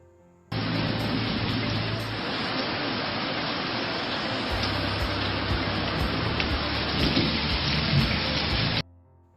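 Steady, heavy rain pouring down without a break, a dense hiss of drops with faint low rumbles underneath.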